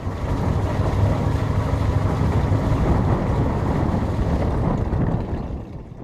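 A steady, loud low rumble of a running MerCruiser boat engine with broadband wash and wind noise, fading slightly at the end; no voices.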